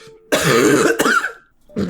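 Close, loud throat clearing and coughing from one person, a rough burst lasting about a second, then a short second cough after a brief pause.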